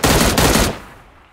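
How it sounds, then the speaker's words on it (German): Rapid automatic gunfire from PUBG Mobile, a loud dense burst for about 0.7 seconds that cuts off and leaves a fading tail. "Also von meiner Seite rauskommen die Schüsse."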